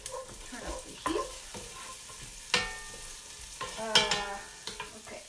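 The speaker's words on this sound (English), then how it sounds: "I'm going to stir them, let them brown" Vegetables being stirred and browned in a pot for kitchen-sink borscht, with soft sizzling under scattered scraping clinks of a utensil, close and fairly quiet, no talk.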